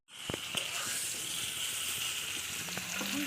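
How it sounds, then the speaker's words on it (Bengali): Pointed gourd (potol) fries in a pan, giving a steady close sizzle with a few sharp pops and crackles, continuous for a few seconds with no talking. "এখন পটল ভাজা হচ্ছে"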